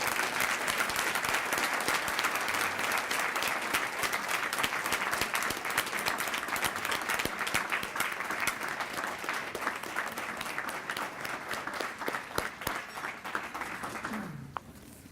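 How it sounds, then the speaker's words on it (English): An audience at a Teacher of the Year dinner applauds a Roosevelt High School music performance, with dense, steady clapping that holds for about fourteen seconds and then cuts off abruptly, followed by near silence. "Please join me in giving another round of applause to the fine music we've heard on behalf of Roosevelt High School."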